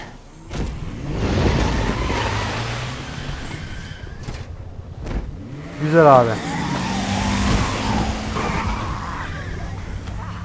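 A car in the Resident Evil 2 Remake video game drives off with a tire squeal and rising engine roar, a short skid burst near the middle, while someone talks over it.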